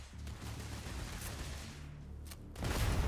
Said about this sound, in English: I'm getting fired at straight away.